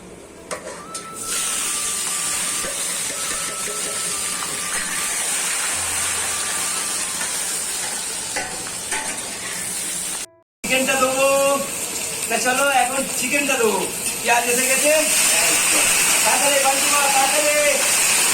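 Potatoes for a chicken dish fry in a pan with a steady, dense sizzling hiss that continues for the whole stretch, broken by a short gap, while a person talks over the later part.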